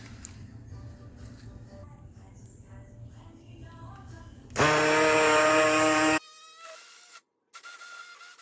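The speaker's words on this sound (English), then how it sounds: "See, I have my little handheld mixer." A small handheld mixer blending watermelon juice whirs in a loud, steady high-pitched buzz for under two seconds, then cuts out, with kitchen background hum before and faint sounds after.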